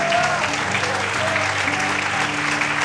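A church congregation applauding during a night worship service, sustained loud clapping over a steady musical drone and low instrument tones.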